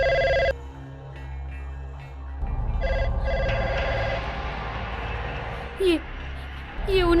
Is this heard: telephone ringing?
yes